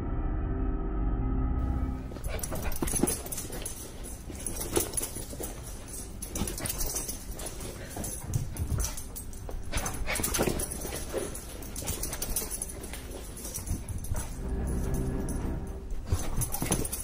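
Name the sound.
dog whimpering during attack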